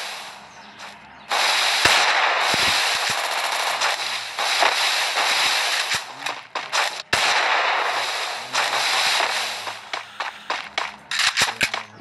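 Rapid automatic gunfire in the Free Fire video game, a loud, dense rattle of shots that runs in long bursts, breaking into shorter choppy volleys toward the end.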